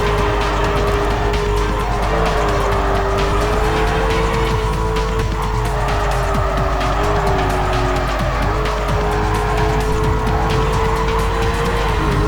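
A muscle car roars at steady high revs in Need for Speed Carbon, with a constant loud engine drone and a long wavering tire squeal of skidding running throughout.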